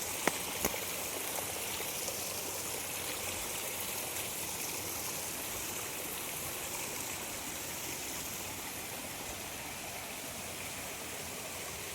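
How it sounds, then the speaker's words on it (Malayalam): Flood water flowing in a swollen stream after rain, a continuous even rush of water heard from nearby at moderate loudness, steady throughout with no voices. "ഇതാണ് നമ്മുടെ വെള്ളപ്പൊക്കം"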